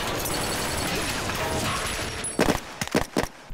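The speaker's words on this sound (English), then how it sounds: "We had lots of active gunfire" A rumbling, noisy stretch gives way to three or four sharp, loud gunshot bangs from blanks in quick succession.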